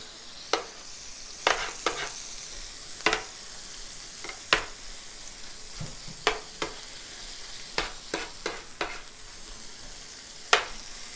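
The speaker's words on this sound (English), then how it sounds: "we are gonna toast our buns. We're gonna toast it." Hamburger buns toast in oil in a pan under a soft, steady sizzle, punctuated by a dozen or so sharp scraping and tapping stirs spread irregularly through the clip.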